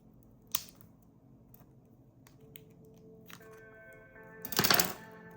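The cover of an Apple AirTag is peeled back during a CR2032 battery swap, heard as scattered faint close-up clicks and ticks followed by a short, louder crackly burst of plastic near the end.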